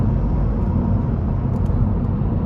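An Opel Astra K 1.6 CDTI with an automatic gearbox climbs a hill, its diesel engine a steady, loud, close rumble with road and cabin noise.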